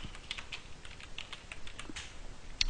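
Light, quick typing on a computer keyboard, a soft irregular patter of key clicks close to the microphone, ending with one slightly louder keystroke.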